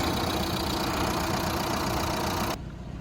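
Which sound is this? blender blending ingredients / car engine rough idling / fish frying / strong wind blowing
car engine rough idling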